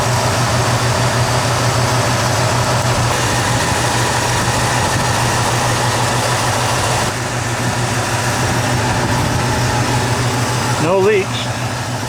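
A Ford F250 truck's 6.6-litre (400 cubic inch) V8 idles steadily just after starting following a water pump replacement, a loud, even low rumble with a constant hum that stays close and runs throughout.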